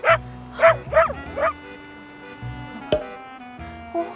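A dog barks four times in quick succession nearby, then a single yip later, with a faint hum in the background.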